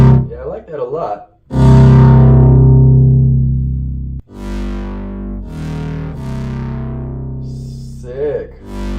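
Ableton Wavetable synth patch pushed further out of tune, sustained detuned chords with a wobbling, chorused and distorted edge, loud and upfront in several held phrases with brief gaps between them.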